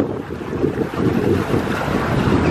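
Paddle boat churning along on open water at a theme park, with a steady wash of splashing water and wind buffeting the microphone, loud and continuous throughout with no talk.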